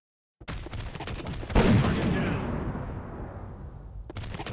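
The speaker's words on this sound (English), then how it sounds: "this is clearly a plasma weapon" Rapid bursts of plasma weapon fire in the dark sci-fi shooter Galactic Hitman, a dense loud volley with one sharper blast near the start and a sustained crackling wash that slowly fades.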